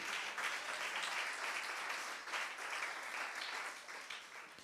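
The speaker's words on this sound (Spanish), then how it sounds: "Dele un aplauso a Jesucristo" A church congregation applauds during a Spanish-language sermon on the cross of Christ, with even, sustained clapping from a large room that carries on unbroken and sounds somewhat distant.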